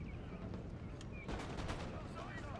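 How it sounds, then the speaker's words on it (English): Musket volley fire in a Napoleonic battle strategy game, heard as crackling, overlapping shots from massed infantry at a distance, fairly faint, with a louder cluster near the middle and voices talking underneath. "I shot the unit that's in front of the stakes and he gave a volley back"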